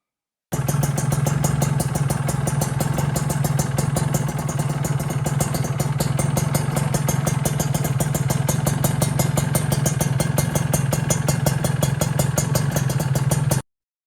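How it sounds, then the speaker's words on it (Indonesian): A motorcycle engine idles steadily through a loud aftermarket exhaust, an iTech or RS1 muffler, a deep rapid-pulsing rumble with slight metallic clatter, constant and close for the whole stretch. "Ini aku cantumin suara dari knalpot ini ya guys ya."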